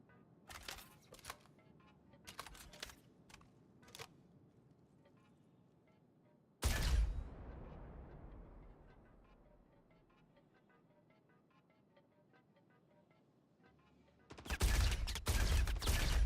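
Gunfire in the video game Star Citizen: a burst of several sharp shots, one loud blast trailing into a long rumbling decay, and a dense volley of fire closing the sequence, with no talk.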